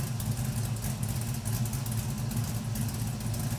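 A V8 engine in an LS-swapped Chevrolet Camaro idles steadily with a deep, rumbling low throb and a slight lope, holding an even level throughout with no voices.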